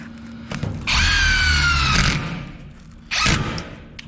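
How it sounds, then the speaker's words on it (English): A power drill driving screws into the metal siding of a 30x40x12 steel building, with a short whirring burst, a pause, then a second brief burst, loud and close. "So it's nice when you're screwing into the sides, so the drill kind of sits in there."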